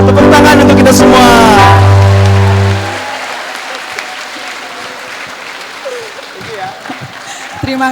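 A church youth spiritual class audience breaks into loud, sustained applause and clapping as a held musical chord fades out, with scattered voices and chuckles mixed into the crowd noise.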